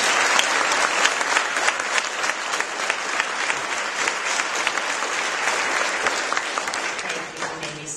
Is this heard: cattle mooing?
no